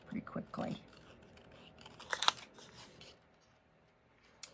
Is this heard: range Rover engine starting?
no